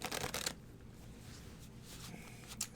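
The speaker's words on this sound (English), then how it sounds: "I want you to shuffle now" A deck of tarot cards is shuffled by hand in a quiet room, with a brisk riffle at the start followed by faint, softer card shuffling and a small slap near the end.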